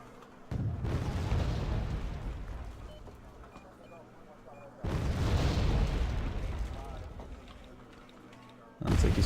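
Mortar fire in the real-time strategy game Warno: three heavy booms roughly four seconds apart, each a loud, broad blast trailing off into rumble, with the last one cut short, with commentary running underneath.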